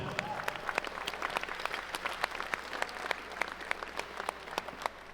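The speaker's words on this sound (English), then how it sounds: "Give yourselves a round of applause for being here on this important moment tonight" Audience at a city State of the City gala applauds, a crisp flurry of many individual claps close and distinct, steady for several seconds under a low background hum.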